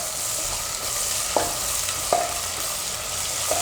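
Asafoetida sizzles in hot oil, stirred for a dish of green pigeon peas and potatoes, giving a steady close frying hiss with a few soft scrapes and taps of the spoon.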